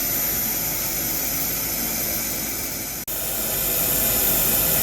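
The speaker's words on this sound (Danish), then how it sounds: "Så skal vi egentlig bare have tændt for udsugningen" Fume extraction system running beside a pipe welding station, giving a loud, steady broadband roar throughout, with a single split-second dip partway through.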